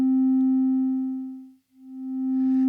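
A synthesizer sine tone with a sine-wave LFO on volume, one steady pure pitch that swells down to silence and rises back again in a slow tremolo cycle, alone and clean.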